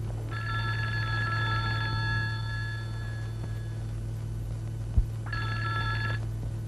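Telephone ringing during a call, two bursts of an electronic trilling ring, the first long and the second shorter, over a steady low hum.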